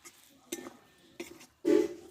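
A cooking pot lid lifted off a vegetarian doi potol, a pointed gourd and yogurt curry, giving two light clinks followed by a louder, longer clattering scrape close by, with no talking.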